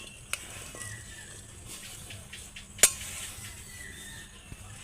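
Wet mustard seed paste sizzling as it goes into a hot wok, a soft steady frying hiss punctuated by a few clinks of a utensil against the pan, one sharp metallic knock standing out.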